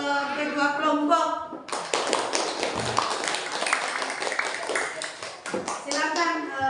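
Students in a classroom clap for two groups after a voice, a burst of quick, bright, uneven hand claps close by that runs for several seconds before fading back into talking.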